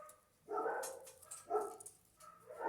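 Dogs barking in three separate bursts, each a cluster of rough barks, moderately distant and fairly faint with quiet gaps between them.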